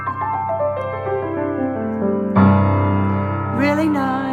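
Piano playing a flowing pentatonic pattern of bright sustained notes that ring over one another, with a fuller chord struck partway through and a higher run near the end, no talking.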